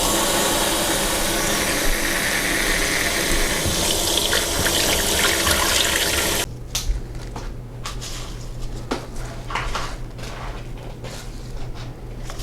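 Fresh mint leaves are washed under a running kitchen tap, giving a steady loud stream of water for several seconds. A quieter trickle with light splashes and handling sounds follows.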